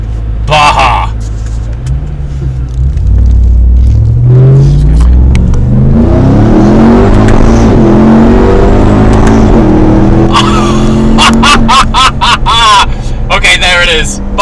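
A new Ferrari in Baja mode accelerates with a rising, revving engine that swells and climbs through the gears, loud and close, while people talk over it at the start and end.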